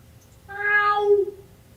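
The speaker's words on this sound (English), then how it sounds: "Cat." A cat meows once, a clear, close, drawn-out cry that rises and falls over a faint low background hum.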